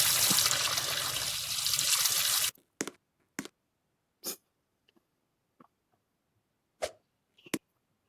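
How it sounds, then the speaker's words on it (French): A home shower sprays loud broadband water for about two seconds, then shuts off, leaving scattered drips and small knocks in a quiet bathroom. "Voilà, c'est la douche."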